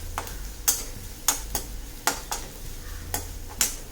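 Pumpkin masala with curry leaves sautéing in a pan: sharp scraping taps of a spoon or spatula come in an uneven rhythm over a low steady sizzle, close up.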